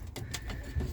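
Irish Old School Tumbler pigeons coo softly in a loft, low murmuring calls close by with faint rustling and a short burst of wing or movement noise.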